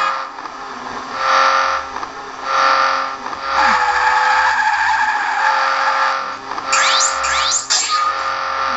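Racing car drifting in the mobile game Asphalt 5, its tires skidding and squealing in a long continuous slide over a steady engine roar, with a brief burst of sharper screeching near the end.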